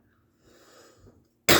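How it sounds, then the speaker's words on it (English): A teacher nearby gives a sudden loud, harsh cough that bursts in abruptly at the end, after a stretch of faint, murmuring background sound. "that was the teacher nearby with his cough"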